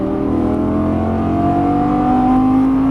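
A Lamborghini Gallardo LP550-2 engine pulls hard at full throttle, a loud, close, steady drone whose pitch climbs smoothly as revs build, with no speech over it.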